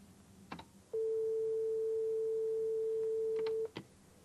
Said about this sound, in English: The simplest sound we can have is a single sine wave